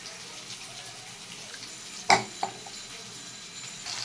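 Water splashes briefly into a bowl to soak chili, cumin and turmeric powders, with one quick pour followed by a smaller splash in a quiet kitchen.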